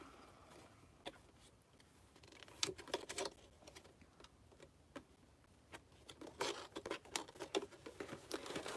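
Scissors snipping through crinkly packaging up close, with quiet irregular crackles and cuts that grow busier toward the end.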